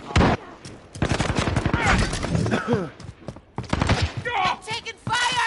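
Video game gunfire on a shoot-house map, bursts of shots mixed with radio callouts and voices talking over the action.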